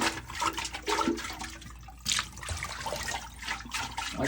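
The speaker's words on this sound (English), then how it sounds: "Once you dump the water," Water is dumped out of a well water filter housing in bursts, a sloshing splash and gush that falls away and returns, close and fairly loud.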